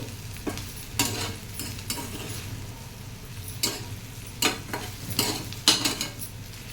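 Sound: stirring frying vegetables in a pan

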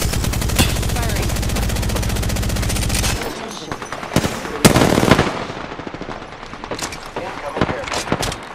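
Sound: gunfire in the video game Apex Legends

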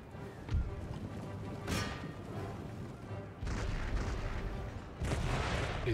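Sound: artillery fire in Empire Total War video game

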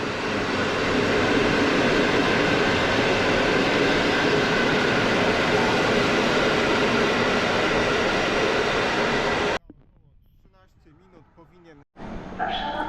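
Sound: EU160 electric locomotive train passing

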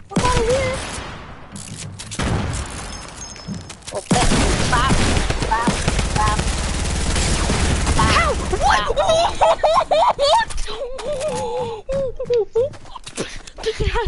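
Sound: grenade explosions in a shooter video game

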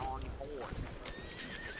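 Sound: horse neighing and hooves in a PS4 video game

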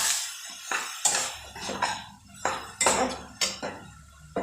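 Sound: stirring spiced ripe mango chutney in a pan

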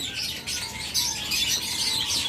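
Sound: cockatiels calling in a bird shop

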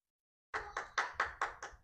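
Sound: audience applause

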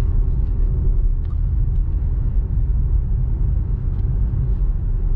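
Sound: BMW X3 M Competition S58 engine while driving

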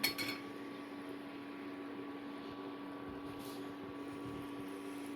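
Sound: spoon placed into glass jar

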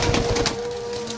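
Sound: Sialkoti desi cross pigeon cooing while handled

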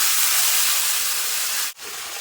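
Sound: spice paste sizzling in a pan after adding water

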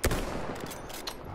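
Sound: sniper rifle gunshot in Battlefield 1 video game

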